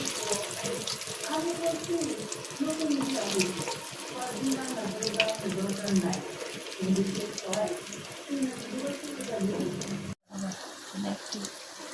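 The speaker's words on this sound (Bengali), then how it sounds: "এক এক করে কাবাবগুলো আমরা তেলে ছেড়ে দিব" Shami kebabs made with egg fry in hot oil, giving a steady, foamy sizzle that runs throughout while a person talks over it.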